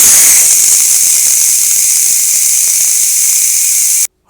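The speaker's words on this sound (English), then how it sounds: "Use a glove to open the valve so you don't steam burn your hand" Steam blasts loudly and steadily from an opened pressure cooker valve while chili cooks, a harsh close hiss that holds evenly for about four seconds before cutting off abruptly.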